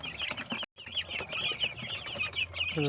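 A crowd of 12-day-old broiler chicks cheeps constantly in high, overlapping peeps, close and busy, broken by a brief moment of silence.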